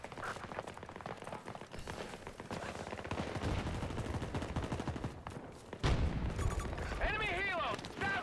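Gunfire in the video game Battlefield, with rapid repeated shots and bursts under a constant voice-chat background, a louder crack around midway, and a tonal whine near the end.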